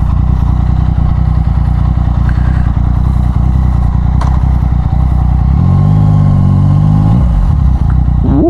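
A Yamaha MT-09 motorcycle ridden through Phuket at night gives a loud, steady engine drone close to the rider, with rising pitch near the end as it revs and accelerates, alone without talk.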